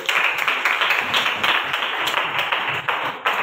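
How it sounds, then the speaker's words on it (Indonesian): Children in a classroom clap their hands together, a quick burst of fairly loud, close claps in an uneven patter. It lasts a few seconds with no voices over it. "Ya, tepuk tangan."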